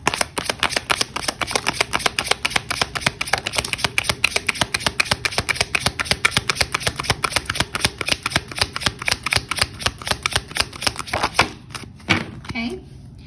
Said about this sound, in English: let's pull some Rebel Oracle cards